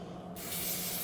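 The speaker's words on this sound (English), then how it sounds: "spray it 25 centimetres, allow 15 minutes between coats" An aerosol spray paint can sprays close by while a wall-mounted tool rack is repainted, a steady hiss that starts about a third of a second in and holds loud to the end.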